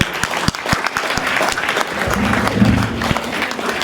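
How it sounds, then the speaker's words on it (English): An awards ceremony audience breaks into sustained applause, dense and fairly loud throughout, with a low murmur or voice briefly rising near the middle. "A round of applause for them."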